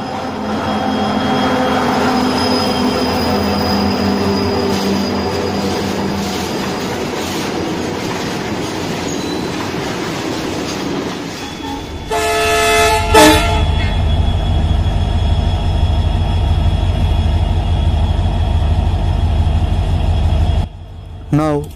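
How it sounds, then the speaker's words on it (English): An EMD WDG-4 freight diesel locomotive of Indian Railways rumbles with a steady engine drone and sounds a loud horn blast partway through. The rolling noise continues low and heavy afterward, with a voice talking over it. "A freight locomotive,"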